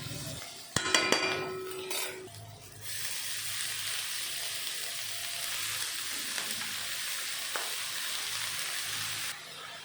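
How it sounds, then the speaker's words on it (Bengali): A few metal clinks of a utensil against the pan, then a steady, even sizzle as garlic, chopped eggplant and fenugreek greens fry in oil. It continues unbroken for several seconds before cutting off. "এখন সব কিছু মিশিয়ে ভেজে নিয়ে দিয়ে দেব কুচানো শাকগুলো।"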